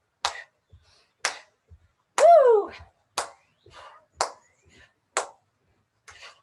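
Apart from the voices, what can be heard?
hand clapping during a workout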